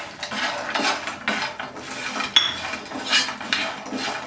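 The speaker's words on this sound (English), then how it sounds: "And we have to mix all this properly." A spoon scrapes and clinks against a pan while fried colocasia is mixed with coriander powder. The stirring comes in a run of short, rhythmic bursts, close and fairly loud, with one sharp metallic tick partway through.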